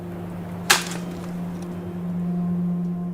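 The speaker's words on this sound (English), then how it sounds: "which is the sound of a branch breaking." A tree branch snaps once in woods, a single sharp crack over a steady low hum, followed by quiet background.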